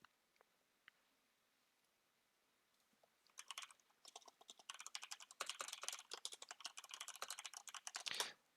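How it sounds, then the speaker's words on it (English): Rapid clattering keystrokes on a computer keyboard burst in after a few quiet seconds with scattered clicks, then run as dense, uneven typing to the end, close and clear with no voices. "You can hear me typing away over there."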